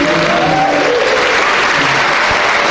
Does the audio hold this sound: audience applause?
yes